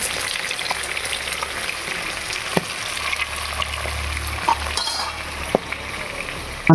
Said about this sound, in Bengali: মাছের মাথা ভাজা হয়ে গেছে বন্ধুরা, কড়া করে ভাজা নিচ্ছি।